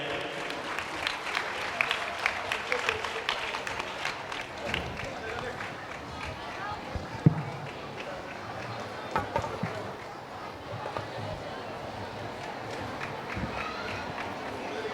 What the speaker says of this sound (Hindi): तो इनके लिए, सभी के लिए जोरदार तालियां बजाइए।